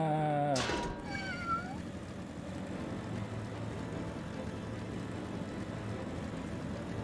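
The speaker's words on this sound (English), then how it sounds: "That Gale cat could have one-hit me if I wasn't fast enough." A Gale cat enemy in Final Fantasy XIV lets out a loud yowling meow at the start, then gives way to a steady rumble of game ambience.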